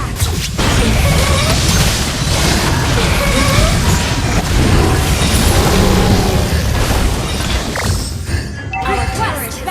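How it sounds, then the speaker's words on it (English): Loud booms, crashes and whooshes from a Mobile Legends match fill the clip as a turret is destroyed, with a game announcer voice speaking over the busy, continuous battle noise. "Our turret has been destroyed."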